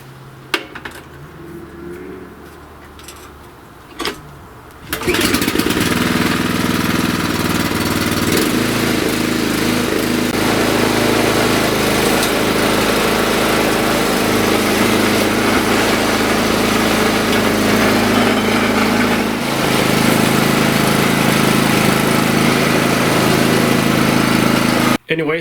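A Craftsman snowblower engine is started after a wheel repair, a few brief knocks and pulls giving way to a loud, steady close-up engine roar that keeps running with small changes in pitch.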